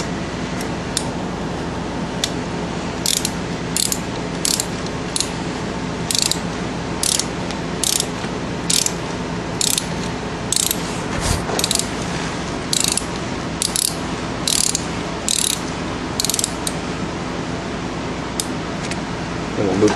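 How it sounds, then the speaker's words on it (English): A hand ratchet fitted with a 7mm Allen socket tightens front brake bolts on a 2002 Town and Country minivan, giving rapid bursts of clicking in repeated strokes with brief pauses between them, close and clear. "We'll take our 7mm Allen socket. I want to tighten these back up."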